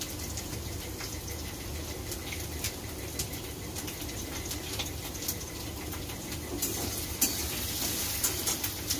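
Potatoes frying lightly in oil in a pan, a steady broadband sizzle with occasional stirring clinks and scrapes, close and continuous with no talking.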